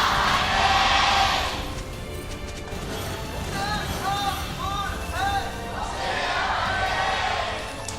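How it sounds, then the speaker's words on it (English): A large arena crowd at a 2023 LCK Summer League of Legends esports match roars and cheers loudly for T1, swelling at the start and again near the end, with a commentator's voice and chatter mixed into the din. "When I heard that T1 cheer"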